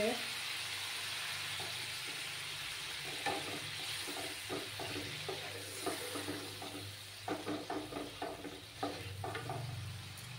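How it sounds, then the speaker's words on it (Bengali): Water added to a frying egg and onion masala, giving a sustained sizzle and bubbling with scattered stirring scrapes, while someone talks quietly over it. "এবার আমি পরিমাণ মতো জল দেব"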